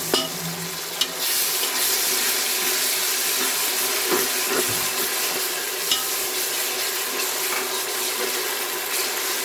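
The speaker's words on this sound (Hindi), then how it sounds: "हम अदरक लहसुन का पेस्ट डालेंगे।" Onions fried with ginger garlic paste in a pot give a steady, loud sizzle that runs throughout, with a few clinks of stirring and no speech.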